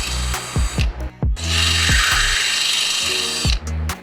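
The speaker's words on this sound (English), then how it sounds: "we'll use a 1/4 inch drill bit to drill them out" A power drill with a 1/4 inch bit drills holes in a 2024 Ford F150 bumper, whirring in short bursts, starting and stopping several times, then one long, loud whine before revving down and up again.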